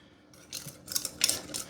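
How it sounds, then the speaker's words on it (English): A whisk beats casserole ingredients together in a bowl for a green chili chicken, cheese and rice dish, giving a few quick, faint scraping and clinking strokes that build in short bursts with no talking. "Go ahead and whisk this together so you can get it combined."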